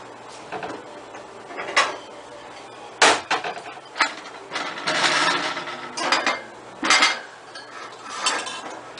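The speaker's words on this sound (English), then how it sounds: "I'm going to add the pectin mixture to the strawberry mixture while whisking the entire time." A spoon stirs pectin into a strawberry mixture for chocolate strawberry sauce, with repeated scraping and clinking against the pot in uneven bursts, moderately loud and close, with no voices.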